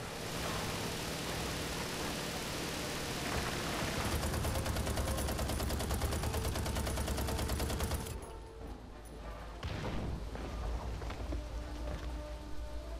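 Tank cannon fire and gunfire in a World War II tank video game facing a Tiger tank, a loud continuous roar of battle noise with dense rapid bursts in the middle, then a sharp drop and renewed rumbling.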